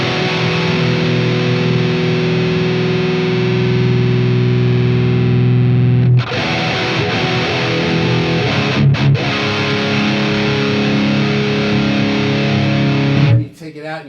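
Distorted electric guitar with a low shelf EQ cut, sustained chords ringing loud and steady, then a short pause and a brief muted strum before a second sustained section that cuts off near the end.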